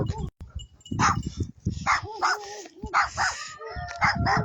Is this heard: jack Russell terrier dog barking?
yes